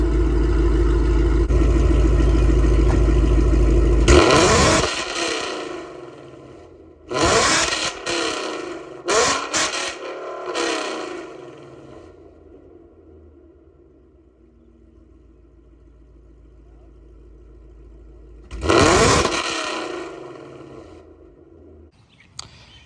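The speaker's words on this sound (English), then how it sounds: "we'll end the video with a little revving action from the Black Mamba" A 2024 Ford Mustang Dark Horse engine revs in several sharp bursts separated by quiet idle gaps, a strong blip near the start, a cluster of quick revs in the middle and one final loud rev late on.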